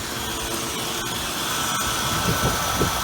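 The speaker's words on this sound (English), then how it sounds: "Let's hear how that engine's running." An Oldsmobile Cutlass engine runs at a steady idle close by, giving a smooth, even hum with no voices.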